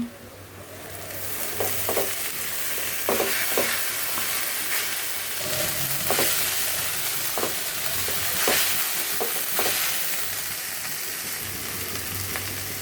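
Bottle gourd peel fry cooking in a pan, a loud continuous sizzle with repeated spatula scrapes and taps at irregular intervals, close up, no one talking.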